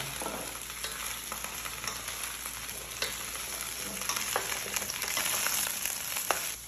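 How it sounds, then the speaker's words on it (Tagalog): Okra stir-fried in oil until browning: a dense, steady sizzle with frequent clicks and scrapes of the spatula, growing slightly louder toward the end, with no voices. "Haluin ko lang siya hanggang mag-brown yung okra."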